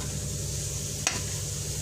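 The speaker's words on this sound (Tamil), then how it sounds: "கொஞ்சம் வதங்கட்டும்." Raw mango pieces with masala sauté in a pan, giving a steady low sizzle with one sharp scrape or clink near the middle; close, even, no talking.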